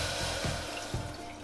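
Coconut milk pouring into a saucepan, a soft, brief liquid gurgle with a couple of glugs, close by and without talk.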